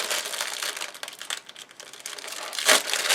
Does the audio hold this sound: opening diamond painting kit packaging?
yes